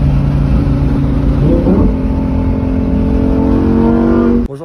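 A 2021 Lamborghini Huracan EVO sports car engine revving hard, a loud close-up roar that rises in pitch, holds as a sustained high-revving wail, then cuts off abruptly.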